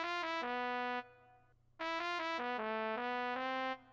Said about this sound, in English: Then, guys, we have the trumpet, which is gonna sound like this.